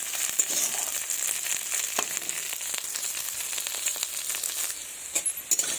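Goat fat fries with green peas in a pan, giving a soft, steady sizzle with light crackles and a few stirring scrapes toward the end.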